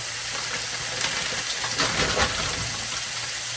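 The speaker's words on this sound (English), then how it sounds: "I just barely have enough water and butter in the bottoms to let them steam" Frozen whole okra steams in a pan with a little water and butter, giving a soft continuous hiss and faint sizzle at close range with no talking.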